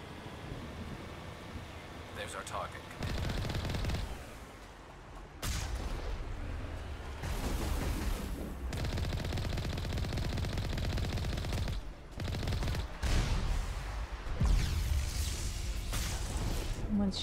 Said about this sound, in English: Shooting me from behind.